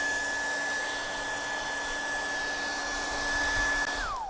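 A hair dryer running on high during a painting session, blowing a steady, loud whooshing roar with a constant whine, uninterrupted until it cuts off at the very end.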